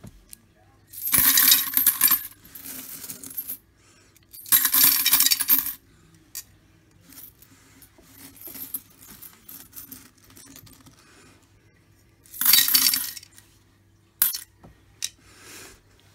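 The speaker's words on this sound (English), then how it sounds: "Just like the designated jar for foreign coins" Foreign coins pour into a jar in several loud metallic bursts of clinking and jangling, with quieter scattered clinks and single coin drops in between.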